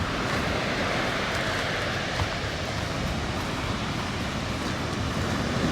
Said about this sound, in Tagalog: Oh, lakas ng alon.